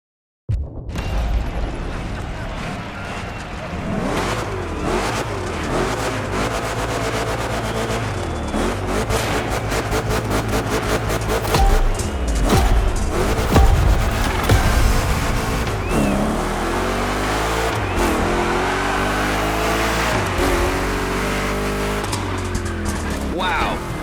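Two Chevy big-block cars race on a rough, twisty course in The Crew Motorfest video game, with continuous engine roar, rapid revving, gear shifts and tire squeal filling the scene throughout.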